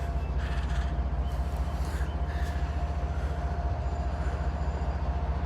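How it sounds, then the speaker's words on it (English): A CSX 1776 locomotive and its train cars roll past nearby with a loud, steady rumble and rail clatter that continues unbroken from start to finish. No one speaks. "Cool train."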